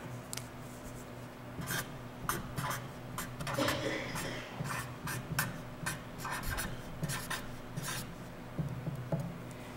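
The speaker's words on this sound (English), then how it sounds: "grab a piece of paper and write it down" Pen writing on a sheet of paper, a run of short scratchy strokes and scribbles at close range, with a steady background hum throughout.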